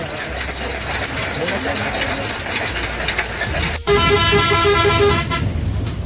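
Riding a bus through traffic: a constant engine drone and road rumble fill the cabin, with a loud car horn blaring for over a second near the end and voices chattering underneath.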